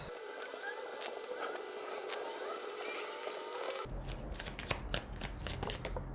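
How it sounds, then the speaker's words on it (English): Tarot cards being shuffled and pulled from a deck, a close, steady papery riffling and sliding that shifts to a brisker, rougher texture near the end. "let's pull some cards from the language of"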